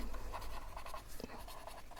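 A pen scratches across paper in steady short strokes while an accounting entry for share capital application money is written out by hand, close and soft with no voices.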